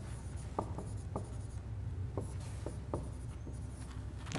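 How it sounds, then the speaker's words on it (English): A whiteboard marker squeaks and scratches across a board in short, irregular strokes, close and fairly quiet over a low background hum. "here we go. Whiteboard marker."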